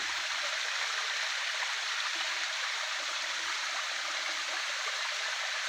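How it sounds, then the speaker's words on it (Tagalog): Steady rushing of a mountain stream in Montalban, Rizal, Philippines, a continuous broadband flow that stays even throughout, with no voices. "Ito yung batis tubig ng anong kalikasan."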